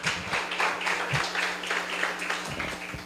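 A church congregation applauding in a sustained wash of many hands clapping at moderate level, with a faint low hum underneath and no voices over it.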